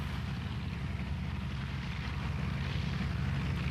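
Steady low engine drone of an early Italian airplane in flight with a helmeted pilot climbing to high altitude, a continuous moderately loud rumble with propeller hum and no talk.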